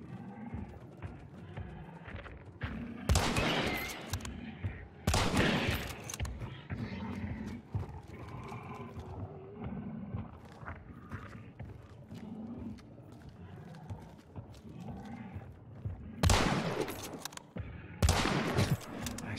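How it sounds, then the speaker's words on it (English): Gunshots in the game Hunt: Showdown, four loud, sharp blasts arriving in two spaced pairs, each with a broad ringing tail, over quieter ambient game noise with a horse audible between them. "firing two shots and missing both of them"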